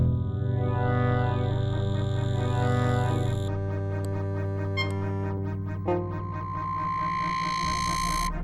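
Buchla Touché digital synthesizer producing dense, wave-shaped tones with sustained harmonic drones and shifting bright overtones, a steady loud layered texture alone with no talking.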